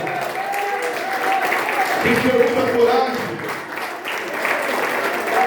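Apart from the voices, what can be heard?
applause for the King of Glory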